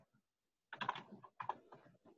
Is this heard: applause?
no